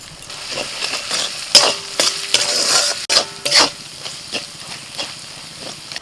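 Ginger, garlic and green chili paste frying in a pan, a steady soft sizzle broken by several sharp spatula clanks and scrapes against the metal as the paste is stirred.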